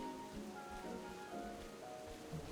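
Rain falls in the King's Quest video game as a soft, steady patter on surfaces, faint and continuous with no voices over it.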